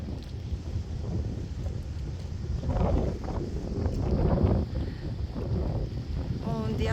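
Steady northeast wind blowing across the unprotected Ormos Panagia harbour, a continuous rushing roar with gusts buffeting the microphone and faint water movement around boats throughout.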